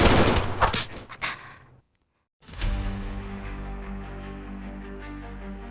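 Automatic gunfire in the military video game Arma 3 rattles in a quick, loud burst, breaks off into a moment of silence, then gives way to a sustained, droning hum.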